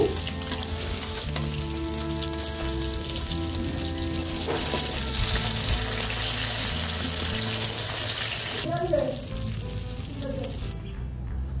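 Silver carp ring pieces turned slowly as they fry red in oil: a loud, continuous close sizzle with a faint hum, a few clinks of turning near the end, then tapering slightly, no speech.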